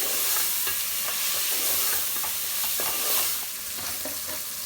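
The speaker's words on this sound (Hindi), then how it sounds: "आलूओं को भी मसाले के साथ अच्छा सा भून लेंगे।" Potatoes with spices for an egg and potato curry sizzle and fry in a pan while a spoon stirs and scrapes them in repeated strokes, steady and close.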